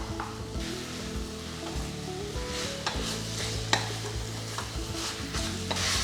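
Chicken pieces sizzle and fry over a high flame in a pot for Donne chicken biryani, a steady crackling hiss broken by scraping stirs and occasional clinks, close and continuous with no voices.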